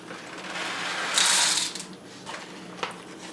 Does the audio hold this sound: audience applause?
no